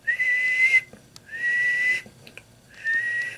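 Three sustained whistle tones blown into a microphone on a ham radio bench with Dozy and MFJ wattmeters, each lasting about a second with short gaps between. The tones are loud and close, and there is no speech.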